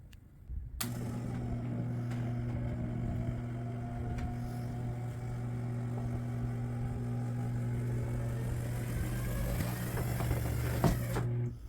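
The hydraulic power convertible top of a 1971 Dodge Challenger runs in a steady, continuous electric-pump hum with a motor whine for about eleven seconds. It starts abruptly and is moderately loud, with no talking.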